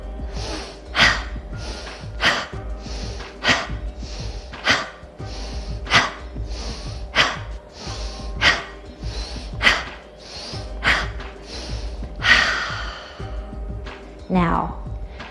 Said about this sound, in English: Inhale through your nose,